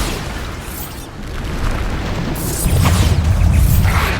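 Bombarda explosion spell cast in the Hogwarts Legacy video game, heard as loud layered booms and bursts that build toward the end, with crackling blast debris over a heavy low rumble.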